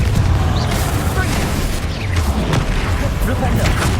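A Confringo spell blast in the Hogwarts Legacy video game: a loud, rumbling booming explosion with crashing debris that fills the whole stretch, with spell names shouted over it.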